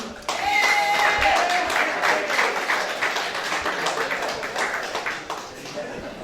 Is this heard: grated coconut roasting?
no